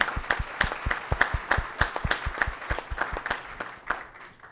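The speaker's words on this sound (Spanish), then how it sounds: "Un aplauso para Marcelo por su intervención" Applause from a panel discussion audience on Chilean economic and labor crimes law, a small group clapping in distinct, fairly quick claps that stay moderately loud and gradually thin out.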